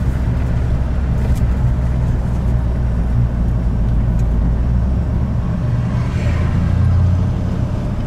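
A car drives around the block on a test drive, its engine and road rumble steady and close from inside, with a brief rise in revs near the end.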